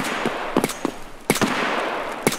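Gunfire in the Escape From Tarkov shooter game: several sharp shots in short bursts, some clustered in quick pairs, moderately loud over a steady background hiss, with no talking.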